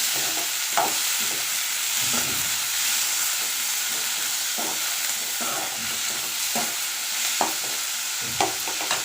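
Curry base for a nethili (anchovy) fish kuzhambu sautéing on a low flame, a continuous close hiss of frying with scattered light scrapes and taps of a stirring spoon, no voices.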